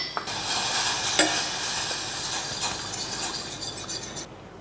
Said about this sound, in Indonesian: ini sausnya sudah sampai tercampur aja ya, sampai mendidih satu kali